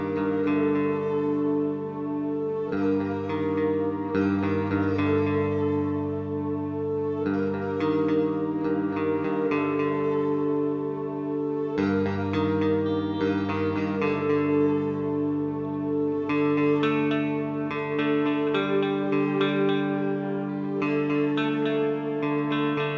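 A song plays steadily throughout, a dense full-band recording with sustained harmonic layers and no talking over it.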